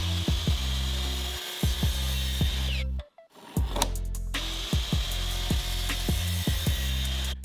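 Miter saw cutting a wooden board for a simple planter build: loud, close, steady whining motor with a brief drop to near silence midway, then the cut resumes, punctuated by repeated sharp clacks.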